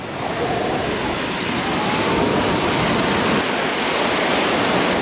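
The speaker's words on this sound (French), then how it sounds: "Non mais regardez les vagues" Ocean waves roll onto an empty beach in Spain, a continuous broad wash of surf noise that stays steady and fairly loud throughout with no voices.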